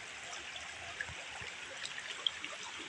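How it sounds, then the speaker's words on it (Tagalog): A countryside stream flowing through woodland, a steady soft wash of running water with faint trickles and occasional small splashes, heard alone without voices. "Sapa."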